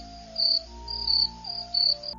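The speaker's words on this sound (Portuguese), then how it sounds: "barulho de grilo" A cricket chirps in three short pulsing bursts over a faint steady background tone, clear and close.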